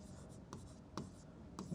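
Hand-writing a geometry proof on triangles with pen or chalk: soft, close scratching strokes with a few sharper taps, continuous and faint over a low background hum.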